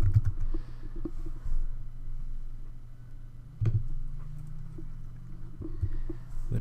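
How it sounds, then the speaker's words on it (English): Keys tapped on a computer keyboard while entering a desktop search query, a few soft, sparse clicks spread over several seconds above a steady low hum, with no talking. "So I'll type in Knowledge Management"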